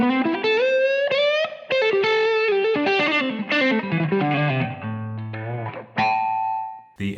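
A boosted electric guitar through a 50- or 100-watt Marshall amp plays a loud, moderately distorted rock phrase of sustained chords and bends, ending on a ringing note.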